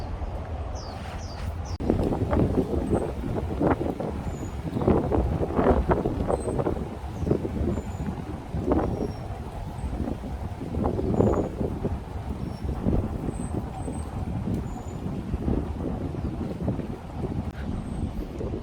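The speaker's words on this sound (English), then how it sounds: "I guess it's because the wind isn't really that strong right now. But it will be very soon." Wind gusts through a Hong Kong park during a typhoon signal No. 8, a continuous low rumble swelling in repeated surges, buffeting close to the microphone with no talk.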